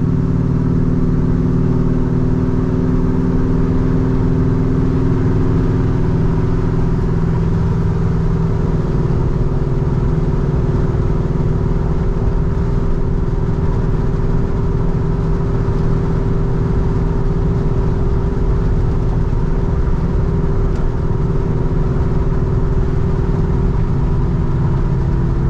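Steady engine drone from a 1971 Chevrolet C10 pickup fitted with a stall converter, heard from inside the cab as it drives and shifts smoothly, a loud continuous low hum with road noise and no speech.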